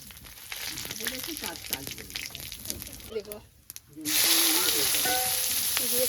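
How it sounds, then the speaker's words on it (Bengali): Bay leaf, dry red chili, cumin and cinnamon sizzle in hot oil in a kadai, a steady frying hiss that swells louder and brighter halfway through as the spices hit the oil, with a voice talking over it. "ওই তেলেতেই আমি তেজপাতা শুকনো লঙ্কা জিরে আর দারচিনি দিয়ে দেব"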